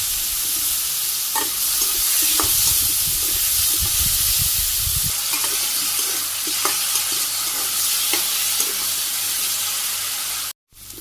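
Potatoes and cauliflower stalks frying in hot oil, a steady loud sizzle and hiss with stirring scrapes and low rumbling handling early on, cutting off abruptly near the end.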